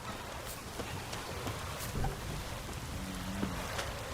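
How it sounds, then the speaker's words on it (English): Steady rain falls in the open world of The Witcher 3, a continuous broadband hiss with scattered louder drops and a low rumble beneath, moderately loud and without talk. "It's raining."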